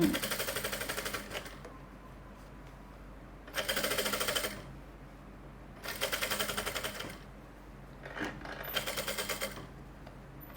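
Sewing machine running in three or four steady bursts of a few seconds each while stitching a two-inch elastic waistband on a garment, pausing between runs, with a short reverse back-stitch at the end of the seam.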